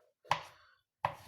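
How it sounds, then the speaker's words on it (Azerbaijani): Two sharp knife chops on a board while cutting salad ingredients, close and distinct, spaced about three quarters of a second apart, with no voices. "Belə doğrayırıq."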